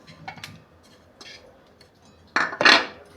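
Paneer being mixed into a lemon juice marinade in a kitchen bowl: a few soft utensil clinks and scrapes early on, then two louder, close clatters near the end, with no talk.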